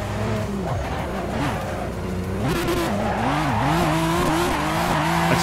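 A rear-wheel-drive 600 hp Supra in the Assetto Corsa racing game spins its wheels, and the engine drone rises and wavers under a constant loud tire squeal that holds throughout.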